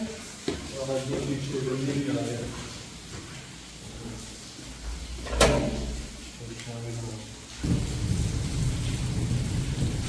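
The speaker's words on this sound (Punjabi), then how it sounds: "ਦਿਖਾਉਣਿਆ ਆ ਤੁਹਾਨੂੰ ਵੀ ਕਿੰਨਾ ਕੁ ਮੀਂਹ ਪੈ ਰਿਹਾ" Steady rain patters on a rooftop outdoors, with a voice talking over it and a low rumble of thunder partway through.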